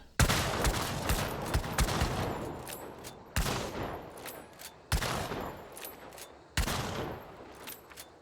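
Centennial rifle firing in the game Hunt: Showdown, four loud, sharp shots spaced a little over a second apart, each with a long, rolling echo fading behind it.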